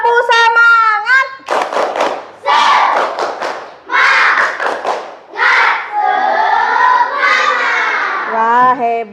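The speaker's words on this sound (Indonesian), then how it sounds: "sekarang kita akan tepuk semangat terlebih dahulu" Schoolchildren chant and clap together in a rhythmic spirit cheer inside a primary school classroom, loud and close, with bursts of shouted group voices alternating with sharp clapping patterns throughout.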